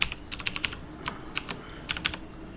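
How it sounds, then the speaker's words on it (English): Short, scattered clicks of keys on a computer keyboard, near and fairly crisp, a handful of quick taps in small clusters with pauses between, made while working in Microsoft Word. "press Ctrl plus K on your keyboard"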